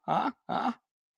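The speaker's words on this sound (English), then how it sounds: "Was that Duce barking in the background?" Two short, throaty dog barks in quick succession, fairly close, followed by silence.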